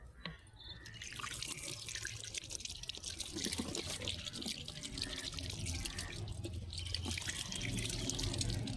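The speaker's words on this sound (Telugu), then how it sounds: "ఇప్పుడైతే వాటర్ అయితే దీంట్లోనికి చిలకరిద్దాము." Water sprinkled onto compost-rich potting soil in a garden pot, a continuous close patter and trickle with small drips, growing slightly louder toward the end.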